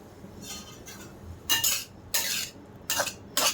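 Onion and yellow, red and green bell peppers frying in a pan, heard as a few separate metal spoon scrapes and clinks against the pan in short bursts over a faint background, close by, no talk.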